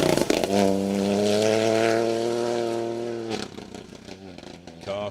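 A Fiesta rally car on a Welsh rally stage, engine note held steady at high revs for a few seconds, then a sharp lift-off and a change of gear as it passes close.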